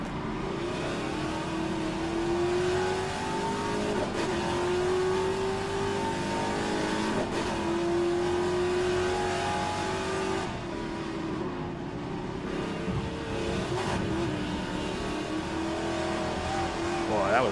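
Classic Trans-Am race car on a timed lap, its engine revving hard through repeated rising and falling gear pulls, loud and close from inside the car, with brief shifts between.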